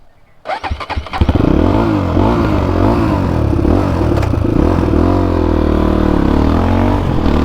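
A motorcycle engine starts up and revs loudly nearby, settling into a steady, throaty rumble with a few surges.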